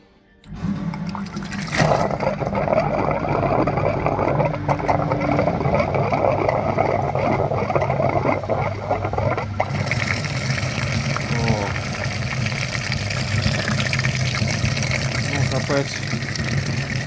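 Flushing equipment pumps liquid through the front radiator of a Kia Soul EV or Niro EV cooling system that is clogged with crystallized deposits. A continuous close gushing, pumping rush of fluid runs steadily for the whole stretch.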